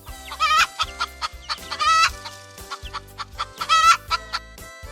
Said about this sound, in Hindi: और मुर्गी।